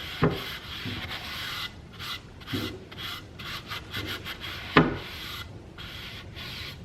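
Paint being rubbed by hand into wooden spindles, a soft continuous scuffing and rubbing with a few sharper knocks and taps, close and fairly quiet, no talking.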